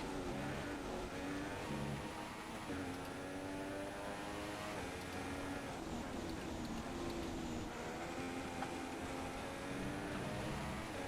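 Steady high-revving engine drone of an F1 race car in F1 2016, with rising and falling pitch sweeps as gears shift down and up, continuous and fairly close throughout.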